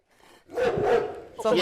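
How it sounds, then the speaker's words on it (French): A single short dog bark is played as a sound clue in a guessing game. It is loud and close, preceded by a faint lead-in. "Chien."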